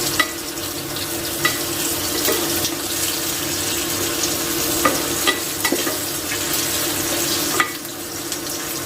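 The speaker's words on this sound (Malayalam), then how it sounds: "പനീരൊന്ന് ഫ്രൈ ചെയ്യാം." Paneer fries in a pan with a steady, close sizzle, broken by scattered sharp clicks and scrapes of a spatula stirring the pieces, no voices.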